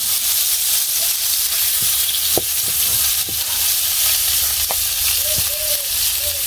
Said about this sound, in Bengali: তো এই যে মাছ ভাজা হয়ে গেছে